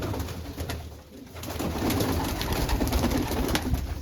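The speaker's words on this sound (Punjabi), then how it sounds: "ਚਾਰ ਕਬੂਤਰੀਆਂ ਛੱਡਦੇ ਆਂ ਥੱਲੋਂ" Pigeons coo close by in a loft, soft throaty coos repeating over a steady background hum with no speech.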